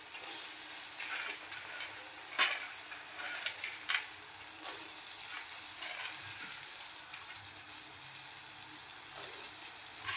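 Peanuts tossed into a pan for sago vada sizzle with a steady, soft frying hiss, punctuated by a few sharp clicks and scrapes as they are stirred, with no talk over it.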